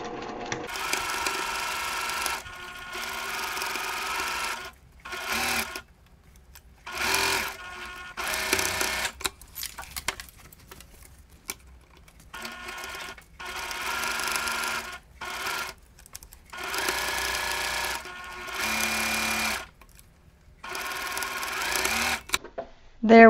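A sewing machine stitches quarter-inch seams on a Christmas stocking quilt block in repeated close bursts of fast, buzzing whirring, separated by pauses where a person talks.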